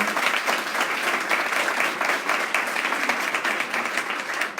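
An audience at an education awards ceremony claps for award presenter Naomi, a dense, sustained round of applause that holds steady throughout.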